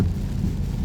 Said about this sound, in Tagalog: Pag malakas yung ulan, malakas din yung wiper niya.